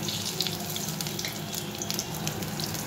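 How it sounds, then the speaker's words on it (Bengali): Whole cumin seeds, whole garam masala and a bay leaf sizzle in hot oil after frying, a steady close hiss and crackle with no talk. "এখানে সেই তেলের মধ্যে এখন আমি ফোড়ন দিয়ে দেবো জিরে, গোটা গরম মশলা, তেজপাতা"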